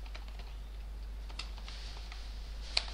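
Quiet typing of Java code on a computer keyboard, a run of soft, irregular key clicks at close range with one sharper click near the end, over a low steady hum.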